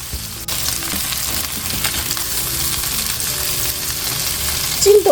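Golden threadfin bream frying in oil after being turned over, a loud, continuous close sizzle with a brief clatter near the end.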